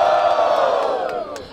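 A loud crowd at a Brazilian street rap battle, Batalha da Aldeia, roars with cheering and shouting in one dense, sustained wave that fades slightly toward the end.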